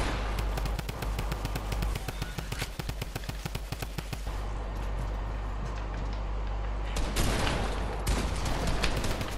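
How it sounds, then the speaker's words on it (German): Rapid bursts of video game gunfire in Fortnite crackle in quick succession, then give way to a steadier noisy rumble with a few more sharp shots later. "Auf mich wird geschossen."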